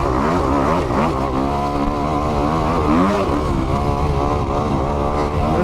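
A 2021 Kawasaki KX 250X dirt bike engine revs hard and steadily, pitch climbing and falling as it launches off jumps and rides whoops, loud and close throughout with no talking.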